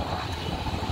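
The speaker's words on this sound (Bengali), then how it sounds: "বিমানটি ধীরে ধীরে এগিয়ে যাচ্ছে।" An Air Astra ATR turboprop airplane taxis before takeoff, its engines giving a steady, close broadband drone that fills the brief moment with no voices.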